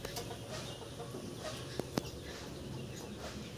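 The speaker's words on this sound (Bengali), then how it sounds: "এই মুরগিটা ডিম পারে," A domestic hen sitting in her nest while laying, giving soft low clucks under a quiet farmyard background, with two brief sharper calls near the middle.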